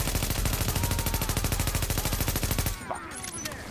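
Rapid turret gunfire in The Division video game, a loud sustained automatic burst of evenly spaced shots that stops abruptly near the end, leaving quieter game sounds.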